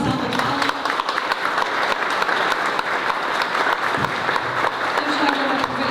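An audience at an anniversary cultural evening gives sustained, steady applause, loud and dense, with some voices mixed in underneath.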